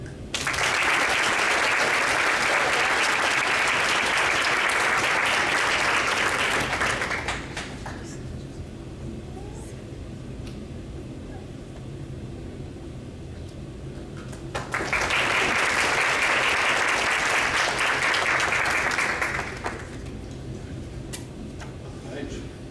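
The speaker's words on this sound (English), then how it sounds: "Big round of applause for Rose Whitley." Applause at The Nestys 2025 awards event for Rose Whitley, two loud bursts of crowd clapping, the first lasting several seconds and the second after a quieter stretch of room sound with talk between them.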